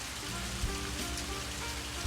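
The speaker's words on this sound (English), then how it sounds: "There's a good amount of rain here" Steady rain falls outdoors, a soft even hiss of drops on surfaces with a couple of faint thumps, quiet and uninterrupted.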